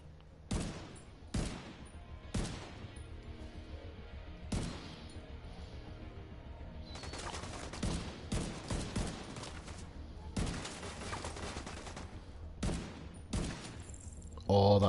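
Bursts of gunfire from The Division 2 crack in short volleys, with sharp isolated shots early and then denser rapid strings of fire, fairly close and loud.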